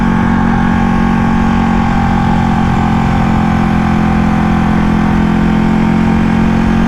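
A Ducati Panigale 1199S motorcycle engine idles loudly and steadily nearby, a constant low rumble with no change in revs and no voices.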